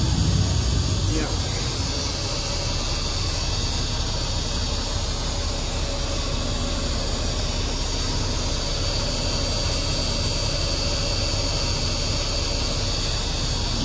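A Cummins 220 diesel idles steadily in a 1969 Crown tandem truck, a loud, constant rumble with hiss. Voices speak faintly beneath the engine.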